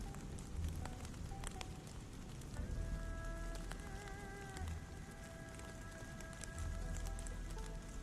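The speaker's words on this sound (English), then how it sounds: "Endlessly, the raindrops fall." Rain falls steadily in the video game Arknights Endfield, a soft continuous patter of drops with scattered taps, mixed with quiet tonal game ambience and low rumbles.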